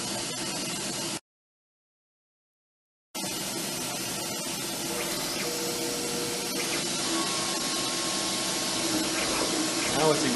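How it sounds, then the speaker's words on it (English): A Gravotech LS900 rotary sign machine engraving holes for Braille beads gives off a steady, dense whirring hum of spindle and motor, close and constant. It cuts out briefly early on and then resumes, with no talk. "Now it's engraving the holes for the beads."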